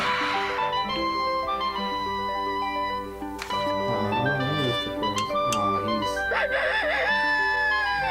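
A rooster crows loudly over a dense layer of sustained harmonic sound, with a rising, wavering crow near the end.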